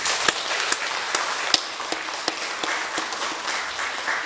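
A church congregation applauds in encouragement during a worship service, many hands clapping steadily in a soft, even patter with a few sharper claps standing out.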